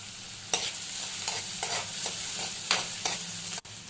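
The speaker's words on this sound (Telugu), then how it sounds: "అది కొద్దిగా ఫ్రై అయ్యాక దాంట్లోకి చిల్లీస్ వేసుకోండి." Onions and chillies fry in oil in a kadai, a low sizzle under repeated spatula stirs that scrape and clack against the pan every half second or so.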